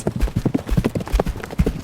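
Hoofbeats of horses riding off clatter in a quick, uneven rhythm, loud and close, with no voices.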